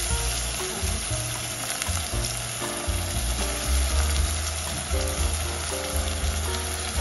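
Tomato dropped into frying onions for a spiced khichdi makes a steady, loud, close sizzle that runs the whole time, with light stirring clatter and no talking.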